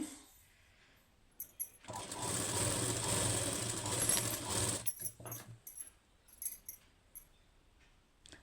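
A sewing machine stitches around the round front neckline of a blouse in one steady, close whirring run of about three seconds, surrounded by quieter clicks and fabric handling.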